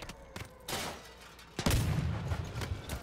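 Booming cannon fire in the vehicle combat game Crossout, an explosive blast followed by a heavier rumbling shot and rolling echoes, loud and close.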